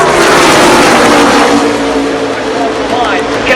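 NASCAR race cars roar around turns 3 and 4 at Talladega during the Alabama 500, a loud, continuous wash of engine noise from a packed field with crowd ambience and no gaps.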